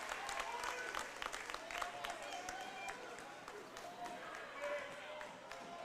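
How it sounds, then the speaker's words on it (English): Home crowd at a high school basketball game in a gymnasium giving a warm round of applause as a player leaves the court, steady scattered clapping with a commentator talking over it. "Now Matheson will check out of the game to a good hand from the home crowd here at Pfeiffer Gymnasium."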